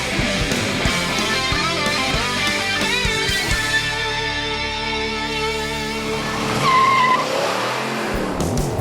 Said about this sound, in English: This is what the muscle car was all about. Straight line acceleration.